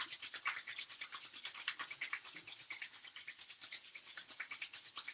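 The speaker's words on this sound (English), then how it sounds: "we'll just rub those hands. Get some really good heat here" Palms rubbed briskly together to build heat, a faint, quick rhythmic swishing of skin on skin, about three strokes per second, steady and close with no voices.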